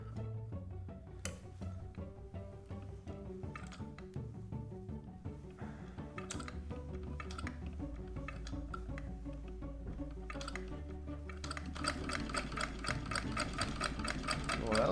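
A Raymond treadle sewing machine runs steadily, its needle mechanism clattering in a continuous rhythmic chatter that grows a bit louder and denser toward the end, with no talking over it.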